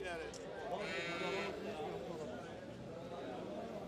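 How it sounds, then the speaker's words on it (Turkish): Lambs bleat at a livestock market selling sacrificial lambs in Turkey, one clear wavering bleat rising close by amid a busy crowd murmur, with people talking throughout. "Güzel kuzular, parlak kuzular."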